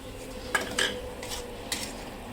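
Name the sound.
sautéing french beans in a pan, stirring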